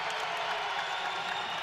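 Basketball crowd at the Lawlor Event Center during an NCAA men's game between Boise State and Nevada, a steady broad roar of arena noise, loud and sustained.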